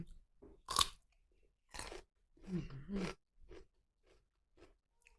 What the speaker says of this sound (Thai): ไข่แดงแบบฉ่ำ ๆ กินกับแตงกวาเย็นๆ นะทุกคน